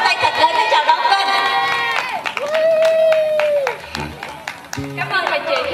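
An audience applauds and cheers to welcome a singer at a Vietnamese Navy descendants' cultural performance, a broad wash of clapping running beneath a sustained singing or speaking voice throughout.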